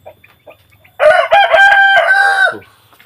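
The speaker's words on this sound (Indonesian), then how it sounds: "Kalau yang ini udah jelas ayam kecil-kecil lagi pada makan" A rooster lets out one loud, drawn-out crow close by, preceded by a few faint clucks from young chickens feeding nearby.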